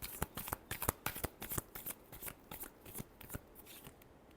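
Tarot cards being shuffled, a quick run of crisp riffling slaps and flutters in an uneven rhythm, close but fairly soft, with no talk over them.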